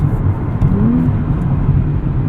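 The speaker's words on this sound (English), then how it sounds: "pretty easy to do the rev matching yourself" A 2023 Nissan Z engine hums steadily, then a quick rev rises and falls during a heel-toe rev-matched downshift, close up inside the cabin, with no talking.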